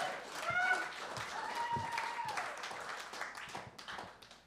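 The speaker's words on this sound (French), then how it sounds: "On l'applaudit!" An audience in a live theatre applauds with scattered, fairly faint clapping mixed with cheers and voices, tapering off over a few seconds.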